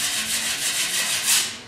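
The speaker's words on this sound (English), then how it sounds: "Here again, I'm coming through and I'm scraping." Repeated rough scraping strokes, a drywall knife dragged across hardened drywall compound in a steady back-and-forth rhythm, close and fairly loud.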